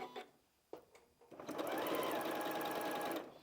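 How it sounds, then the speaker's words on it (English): A sewing machine runs a steady stitching burst on a scrap piece of fabric while piecing a barn dance quilt, starting after a few small clicks and holding an even whir for about two seconds before stopping. "So now I can just get on and sew."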